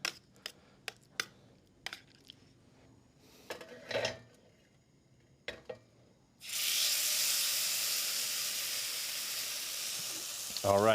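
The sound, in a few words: pork searing in olive oil in a hot pan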